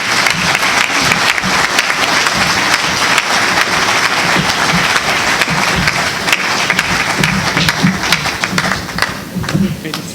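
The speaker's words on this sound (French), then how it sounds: "vous offre ce trophée sous les applaudissements du public" An audience at an eloquence evening bursts into sustained applause as a trophy is presented, dense steady clapping filling the room throughout, with some voices mixed in.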